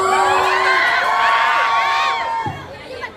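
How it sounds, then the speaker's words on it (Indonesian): At a film meet-and-greet, an audience cheers and whoops for a cast member, with excited shouting voices and a loud, continuous crowd roar that eases toward the end. "tepuk tangan dulu untuk Luntesha"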